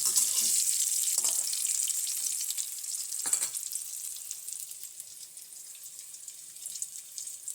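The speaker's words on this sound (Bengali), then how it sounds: "লাল লাল করে ভাজা প্রায় হচ্ছে এখানে নুন আর হলুদ গুঁড়ো দিয়েছি" Chicken pieces frying in a pan with salt and turmeric, a steady loud sizzle and crackle that runs the whole time, with a few brief stirring scrapes near the start.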